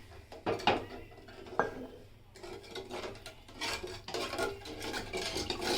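Milk mixed with powdered milk is stirred in a pot on the stove, a spoon scraping and rasping against the metal in uneven bursts with brief pauses between strokes.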